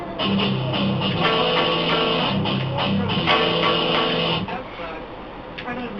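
A close electric guitar riff with sustained chords repeating in a steady pattern, ringing out and fading near the end.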